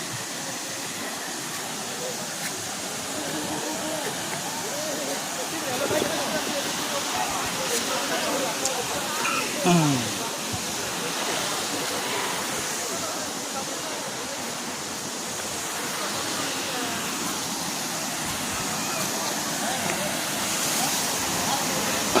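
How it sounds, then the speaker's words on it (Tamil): Tada Falls on the road toward Kalahasti, water pouring steadily over a check dam and small rocks while bathers are nearby, a constant broad rushing roar that holds unbroken throughout. "அருவியினுடைய சத்தம்."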